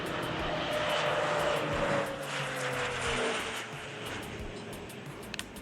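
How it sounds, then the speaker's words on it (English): Crop dusting airplane flying low over farm crops, a loud droning propeller engine with a shifting pitch as it passes close by, then fading slightly. "this massive efficiency has turned crop dusting planes into a strategic weapon"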